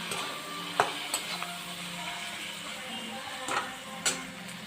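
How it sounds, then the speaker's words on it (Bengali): Chicken sizzles faintly in a pan with chili powder, turmeric, salt and tomato, a soft continuous frying hiss broken by a few sharp scrapes and clicks of stirring. "এবার দিয়ে আমি এটাকে ভাজতে থাকবো লঙ্কা গুঁড়ো হলুদ গুঁড়ো সাধারণ মতো লবণ আর টমেটো দিয়ে দিয়েছি"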